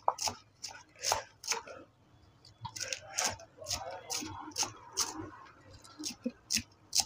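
A knife chops vegetables thinly on a home kitchen board for egg noodles, giving sharp, crisp taps in uneven bursts close to the listener, with someone talking quietly between cuts.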